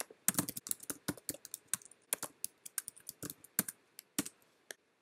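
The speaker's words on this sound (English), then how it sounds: "now she would type in a message to see if she can get some assistance" Someone types a chat message on a computer keyboard, a close, quiet patter of quick, uneven key clicks with short pauses and a few sharper keystrokes.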